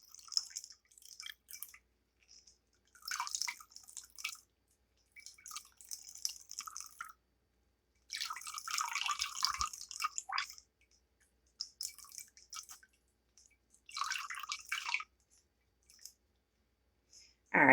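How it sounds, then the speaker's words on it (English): Carrot juice drips and splashes in short bursts while being squeezed out by hand, with quiet gaps between each squeeze and a small knock partway through; no voice is heard. "So we're just squeezing the juice out."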